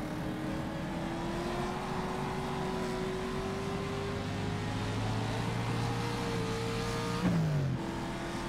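A 1956-era race car in rFactor 2 at Monza holds a steady engine drone while its tires spin on a corner exit, ending in a brief squeal and a sharp drop in revs near the end, with no talk.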